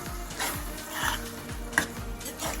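Urad dal curry is stirred with lemon juice in a pot, regular back-and-forth spoon strokes roughly every half second over a gentle simmer, close and moderately loud, with one brief clink.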